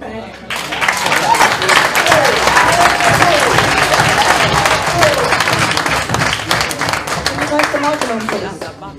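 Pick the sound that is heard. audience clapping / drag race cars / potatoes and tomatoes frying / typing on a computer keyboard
audience clapping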